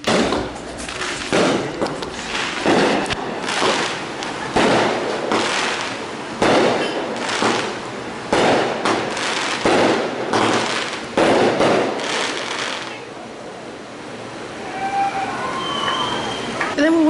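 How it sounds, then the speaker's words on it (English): Fireworks go off in a busy beach town at night, a rapid series of loud cracks and bangs in irregular bursts, with people talking nearby and a faint siren toward the end. "They're doing fireworks."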